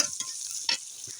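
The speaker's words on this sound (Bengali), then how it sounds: "এভাবে একটু লাল লাল করে ভেজে নিতে হবে।" Salted banana stem slices fry in a pan, village style, under a steady hissing sizzle marked by a few brief scraping stirs close by.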